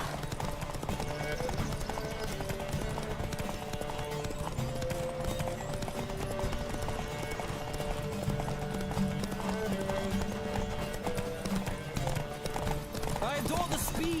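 Horse hooves pound at a steady gallop during a race in The Witcher video game, a dense continuous clip-clop with music and occasional voices running underneath throughout.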